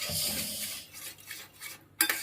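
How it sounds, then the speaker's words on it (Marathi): A lid goes onto a pan of spinach curry with a single sharp metallic clack near the end, after quieter scraping and rustling of the pan. "आता पाच मिनिटं ह्याच्यावर झाकण ठेवणार आहे"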